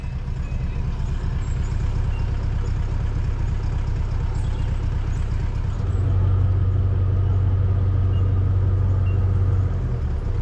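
Van engine droning along at a steady low rumble while driving toward a flooded road, loud and continuous with a deeper hum swelling in partway through, no voices over it.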